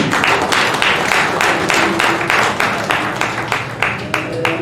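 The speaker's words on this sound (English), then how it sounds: "Let's give a clap offering." A congregation gives a clap offering at a Sunday church service, with dense sustained clapping from many hands, loud and even throughout.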